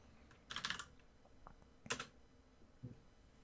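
Keys clatter on a computer keyboard in a few short, quiet bursts of typing, separated by pauses, with no talking.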